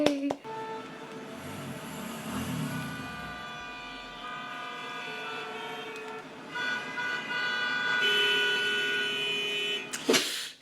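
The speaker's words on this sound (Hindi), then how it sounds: "कितना सा गाना लगता है ना कि सारे टाइम हॉर्न हॉर्न हॉर्न." Car horns honking in Indian street traffic, several sustained toots overlapping and changing pitch, moderately loud over a low traffic hum, with a brief pause midway.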